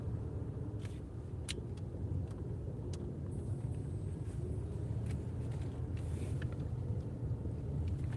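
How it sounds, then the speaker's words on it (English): Low, steady rumble of a car engine heard from inside the vehicle, with a few light knocks and clicks over the drone. "I'm gonna park the car over here."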